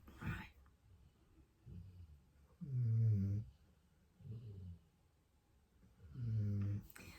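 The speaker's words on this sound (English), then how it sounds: "Hope the snoring's not too loud." Slow, rhythmic snoring from a dog with deep, rumbling inhales repeating every couple of seconds, a few louder snorts standing out, close by in a quiet room.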